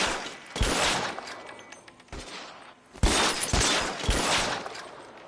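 Gunfire in the 1940s crime video game L.A. Noire, loud shots cracking out in uneven bursts with echoing tails and short gaps between volleys.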